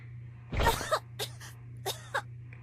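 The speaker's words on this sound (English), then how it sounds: "Don't cough on it." A sharp, close cough followed by a few smaller hacking coughs and throat-clearing sounds, spaced out over a couple of seconds against a low steady hum.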